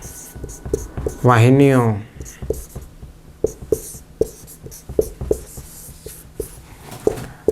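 Handwriting on a classroom board during a Class 10 science lesson, heard as a steady series of short scratchy strokes and taps, with a teacher speaking briefly at the start.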